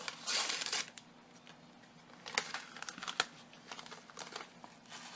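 Paper seasoning envelopes for meatloaf torn open and shaken out, a loud crinkling burst at the start followed by scattered softer rustles, taps and crackles of paper.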